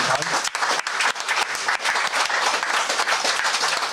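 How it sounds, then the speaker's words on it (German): Audience applause at a charity football match played by local musicians for Vienna's women's shelters, a dense burst of many hands clapping close and loud, with speech over it. "das allein, glaube ich, verdient einen riesigen Applaus"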